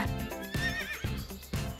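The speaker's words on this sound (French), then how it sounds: "Flynn est arrivé sur son cheval." A cartoon horse whinnies loudly and close, a rising, wavering neigh layered over rhythmic hoofbeat-like thumps and background music.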